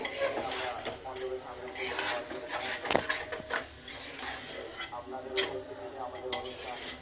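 Washed, unsoaked rice is stirred together with chicken in a pressure cooker for biryani, giving close scraping and clinking of a spoon against metal with light sizzling underneath and a sharp knock partway through.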